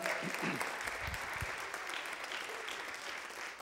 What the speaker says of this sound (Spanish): Dele más fuerte el aplauso al Señor en esta mañana